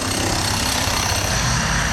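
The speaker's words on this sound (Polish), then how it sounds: "Popełnili błąd, no to muszą napieprzać młotami." Workers break up a road surface in Saranda, Albania, with a continuous, loud, dense hammering racket close by and no pauses.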